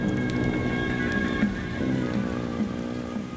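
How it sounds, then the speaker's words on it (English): Heavy rain falls steadily at a monastery of kung fu nuns, a dense continuous patter with a few sharper drops, no voices heard. "It's been raining a lot."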